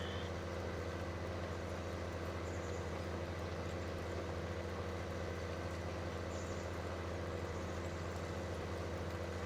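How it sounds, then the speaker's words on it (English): A tractor engine idles steadily in the Farming Simulator 19 video game, a continuous low rumble with a constant drone that holds at an even level throughout. "Guess Millennial got his new tractor today."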